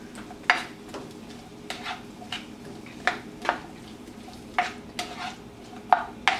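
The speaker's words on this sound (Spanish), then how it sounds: "Voy a sofreír esto." Seasoned tuna sautéing in butter for chiles rellenos sizzles softly under repeated stirring, with light scrapes and taps of a utensil against the pan at irregular intervals, close by and without talk.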